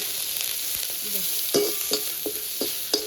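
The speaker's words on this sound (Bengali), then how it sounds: "ভালো করে পেঁয়াজ রসুন কাঁচা লঙ্কা ভালো করে একটু ভেজে নেব" Onion, garlic and green chili fry in a pan with a steady sizzle, broken by several sharp scraping strokes of a spatula as the mix is stirred.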